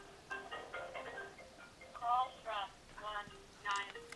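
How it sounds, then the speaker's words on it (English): A phone rings faintly in a room during a newborn photo-editing session, its repeated ring bursts carrying under and between the steady talk of a nearby voice. "my phone is ringing."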